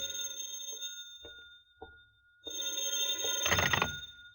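An old telephone bell rings in a radio drama, a few short separate rings followed by a longer sustained ring with a rattling burst near the end, no voices.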